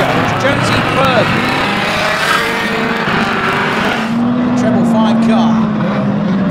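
Ford Granada banger racing cars roar around a track, loud continuous engine noise with passing vehicles, a commentator talking over the action throughout.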